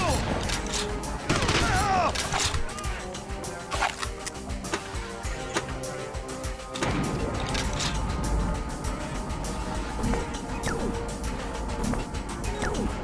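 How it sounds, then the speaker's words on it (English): A shotgun in the Red Faction video game, with a reverse forth-and-back pump action, is racked and fired repeatedly amid dense game gunfire, mechanical clacks and crashing effects. "I find it interesting that this shotgun pumps in reverse, where it's a forth and back instead of back and forth."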